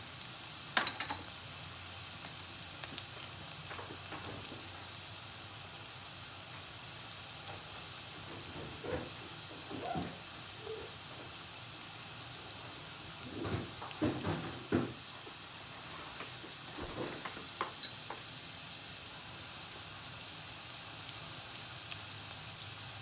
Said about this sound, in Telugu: ఇవన్నీ వేసుకొని కొంచెం ఫ్రై అవ్వాలి.